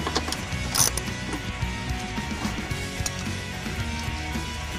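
Ratchet wrench with a 10mm socket backing out radiator bracket bolts on a Honda S2000, giving steady close mechanical clicking throughout with occasional louder clacks and no talking.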